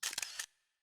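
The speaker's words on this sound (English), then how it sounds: "Since when do smartphones have shutter sounds?" Smartphone camera shutter effect from the game Caligula Overdose, one quick mechanical click-clack lasting about half a second with a short fading tail, alone and clear.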